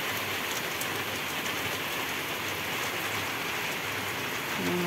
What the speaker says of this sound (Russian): Хорошо, хоть дождь теплый.